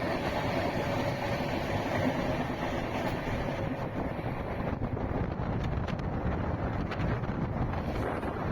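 Inside an empty C7 coach of the Visakhapatnam–Guntur double-decker train, a constant low rumble and airy rush of the moving train fills the space, steady and fairly loud with faint rattles and no talking.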